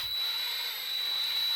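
A power drill bores out a rivet on a 2020 Silverado flatbed build, giving a steady, high, whining grind that runs continuously at an even level with no pauses.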